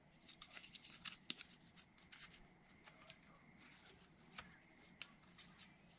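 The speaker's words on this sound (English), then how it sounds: "now we can Teflon tape this" Teflon tape being wrapped around the threads of a copper water pipe, heard as faint, close dry rubbing and crinkly snaps in short irregular bursts, with no voices.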